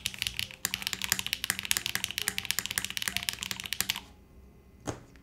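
A DR-70F mechanical keyboard with HMX Cloud switches is typed on in a fast, steady flurry of close keystrokes for about four seconds, then falls quiet apart from one final clack.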